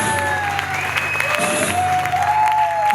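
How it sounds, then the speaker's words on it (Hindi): Audience clapping at a network-marketing training session in Haridwar, a brief wash of applause with some crowd noise and tonal music or feedback lines running underneath. "एक बार जबरदस्त तालियां भाई रविंद्र कुमार सैनी जी के"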